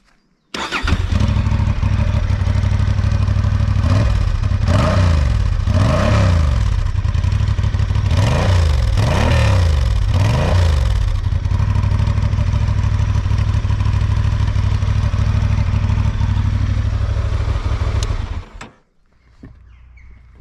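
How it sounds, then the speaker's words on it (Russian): A 2023 Honda XL750 Transalp motorcycle engine idles loudly with a deep exhaust rumble, revved several times in short bursts, then cuts off abruptly. "Выхлоп, конечно, тоже надо вам показать."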